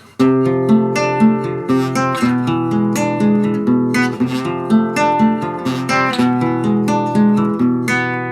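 A loud, close acoustic guitar plays a busy picked riff, quick notes ringing over a steady bass line without pause or talking.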